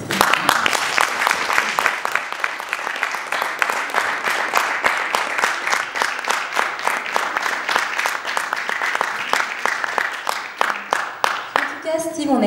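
An audience at an audition stage claps steadily for a performer, with sharp, close, individual hand claps repeating at a brisk rhythm for the whole stretch.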